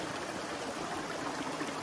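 Water being filtered at a hiking stop along the Appalachian Trail makes a steady, dense rushing and trickling wash that holds evenly throughout, with no talking.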